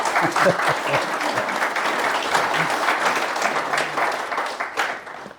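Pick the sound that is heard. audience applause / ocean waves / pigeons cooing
audience applause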